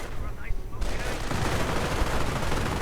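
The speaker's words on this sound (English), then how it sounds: "Light machine gun, of course, mounted." Mounted light machine gun fire in a real-time strategy battle, a dense crackling stream of shots running steadily through the clip amid other battle noise, loud and continuous after a brief quieter opening.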